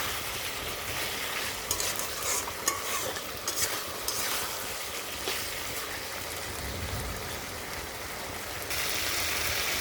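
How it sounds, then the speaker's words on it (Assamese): Vegetables and potatoes stir-fried over a low flame sizzle steadily, with scraping stirs and clinks of a utensil against the pan throughout. "এতিয়া ল' ফ্লেমত মই চব্জিখিনি ভালকৈ ভাজি ল'ম"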